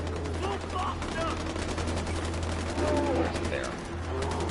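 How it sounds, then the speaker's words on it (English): Video game gunfire crackles as rapid, continuous bursts over a steady low hum, with scattered voice fragments and game sounds mixed in throughout. "Gunfire."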